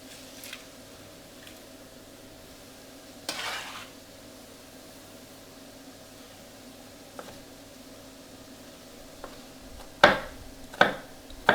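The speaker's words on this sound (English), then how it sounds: "Give this a stir." Onions and carrots being stirred in a pan for a mushroom bolognese ragu make soft scrapes under a faint sizzle, followed near the end by a few sharp utensil clicks against the pan.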